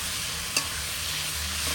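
Tomatoes go into a frying fish head curry, giving a steady close sizzle with a brief stirring scrape partway through.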